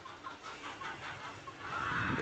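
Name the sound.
chickens clucking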